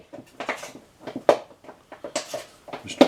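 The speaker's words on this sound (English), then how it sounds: "That's my dog. He decided to chew up a bottle." A dog gnaws and crunches on a plastic bottle nearby, giving irregular crinkling and clattering bursts at a moderate level.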